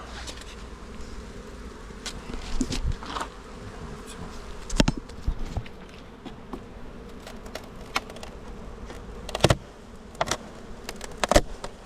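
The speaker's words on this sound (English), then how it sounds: "you'll see how calm these bees are" Dense, steady buzzing of many honey bees close by, a continuous insect drone with occasional louder passes of individual bees near the ear.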